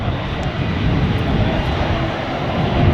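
Display aircraft landing at the Farnborough Airshow, a steady, loud, broadband engine roar and rush that holds throughout, with no talking over it.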